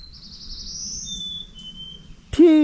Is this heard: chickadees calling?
yes